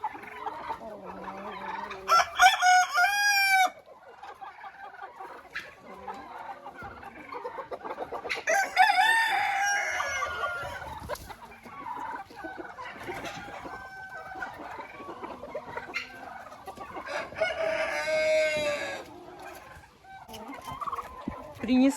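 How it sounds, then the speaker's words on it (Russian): Roosters fight among a mixed flock of chickens and turkeys, with loud, agitated crowing bursts, clucking and gobbling, and rustling scuffles between the calls. "Вот уже драки начались. Драки петухов начались."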